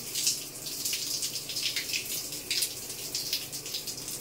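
Water sprays steadily from an Atomy vitamin C filter shower head under strong pressure, a continuous bright hiss with slight surges and no voices.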